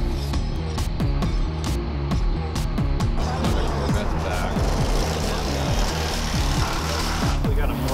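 An Unlimited hydroplane race boat, the Miss Homestreet Bank, roars continuously during a spring test run at Tri-Cities, with a loud, steady engine drone and repeated sharp clicks, while someone speaks over it.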